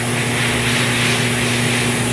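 An airbrush sprays paint onto an eagle and mountain scene in a steady, close, continuous hiss with a faint mechanical hum underneath and no pauses.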